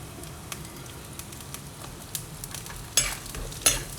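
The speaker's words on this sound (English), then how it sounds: "After that I'm adding ginger garlic. So just fry it for a few seconds." Ginger, garlic and green chilies frying in oil in a pan, a soft steady sizzle with occasional crackles and a couple of louder stirring scrapes near the end, close and moderately quiet.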